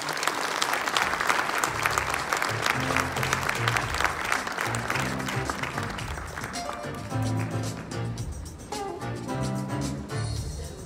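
A conference hall audience at a blockchain event applauds warmly, thick continuous clapping with background music underneath, gradually thinning toward the end.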